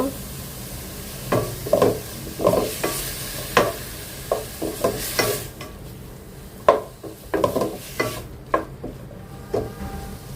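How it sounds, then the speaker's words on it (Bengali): Lemongrass frying in a small amount of oil in a pan for a light diet soup, heard as repeated stirring and scraping strokes over a gentle sizzle, with occasional clinks of utensil against pan. "একটু ভাজবো আমি কিছুক্ষণ অল্প কিছুক্ষণ একটু ভাজবো এর সাথে লেমন গাছটা দিয়ে দিব"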